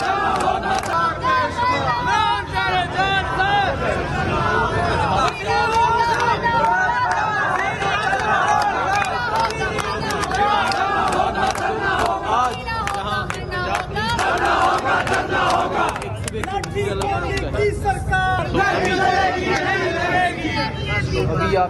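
A large, agitated crowd of Imran Khan supporters in Rawalpindi, Pakistan, shouts and chants continuously, loud and close, with many overlapping voices, rhythmic slogan bursts and general clamour.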